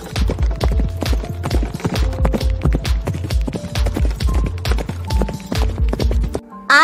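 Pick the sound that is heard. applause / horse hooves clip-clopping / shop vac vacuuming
horse hooves clip-clopping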